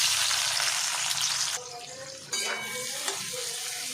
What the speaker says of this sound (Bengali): পেঁয়াজগুলো আমি সুন্দর করে ভেজে নেব